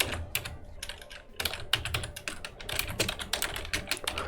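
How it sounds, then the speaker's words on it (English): Rapid, irregular clatter of keys typed on a computer keyboard with the microphone sitting right on top of it, close and crisp, with bursts of keystrokes continuing steadily throughout and no talking. "you're gonna listen to my keyboard because the microphone is just on top of it"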